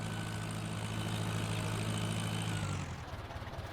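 A tractor engine in the Farming Simulator 19 video game drones steadily at a loud, even level, then drops off and rumbles unevenly in the final second.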